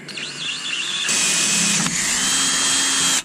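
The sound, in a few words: power drill drilling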